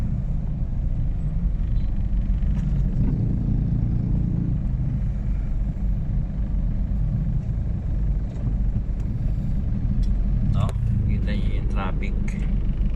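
A car moves through slow traffic on a driver's commute, a continuous low road rumble with engine drone and passing vehicle noise, while a voice talks over it.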